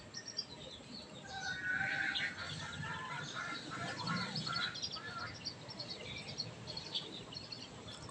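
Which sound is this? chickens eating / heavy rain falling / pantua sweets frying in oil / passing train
chickens eating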